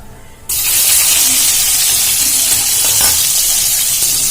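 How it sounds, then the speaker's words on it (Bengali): Tomatoes hit hot oil in a pan with a sudden loud sizzle after a brief quiet moment, then a steady bright hiss and crackle continues as they are stirred, for a vegetarian papaya and mung dal dish. "টমেটোটা কিছুক্ষণ নাড়াচাড়া করে ভেজে নেব"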